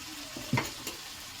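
A prawn and potato curry with kharkun stalks and onion being stirred in a pan, giving a short soft scrape and gentle sizzle with one louder stroke, close and alone.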